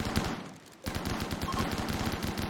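Shotgun fire from characters in the video game RimWorld, a fast string of loud shots with one brief pause before the firing resumes.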